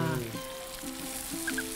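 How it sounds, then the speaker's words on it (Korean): Green onions frying in rendered pork fat in a pan, a steady soft sizzle running throughout with a few faint clicks, and harmonic vocal-like tones layered over it. "돼지고기를 먼저 구워서 기름이 나오게 한 다음에 그 기름에 파를 볶는 게 맛을 다 낸 거야"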